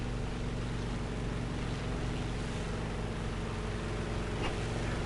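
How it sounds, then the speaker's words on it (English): A Merlin aircraft engine in the War Thunder video game gives off a steady, dense, droning roar with a constant low hum, loud and unbroken throughout, with no voices. "listen to that Merlin engine"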